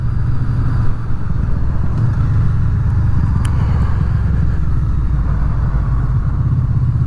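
A Honda VFR800 motorcycle with a modified exhaust, heard while riding on a rough road: a steady, loud, close engine and exhaust drone with low rumble that holds throughout, with no talking.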